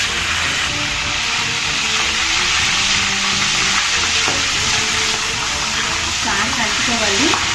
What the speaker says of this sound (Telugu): ఇప్పుడు మనం కట్ చేసుకున్న పచ్చిమిరపకాయలని ఆయిల్లో వేసుకోవచ్చు.